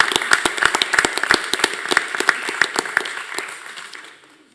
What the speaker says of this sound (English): let's give him a round of applause for his motivation and potential